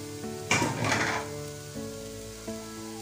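Onions frying in oil over a low flame for a fish masala curry, giving a brief burst of crackling sizzle over a steady background hum, with no talking.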